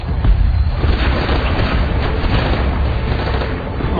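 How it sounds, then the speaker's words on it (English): Naval gunfire from a British frigate's upper deck weapons during a 1982 air attack, a dense, loud, continuous rumble of booms and rapid firing, muffled and distorted, with no clear speech. "All upper deck weapons, stand to and fire at will."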